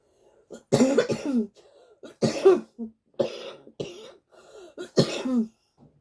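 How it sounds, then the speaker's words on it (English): Four harsh coughs come in separate bursts, spaced a second or so apart, close and fairly loud with quiet gaps between them. "Excuse my cough."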